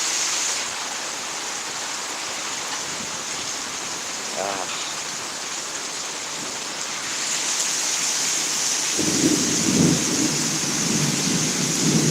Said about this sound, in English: This is a nice storm.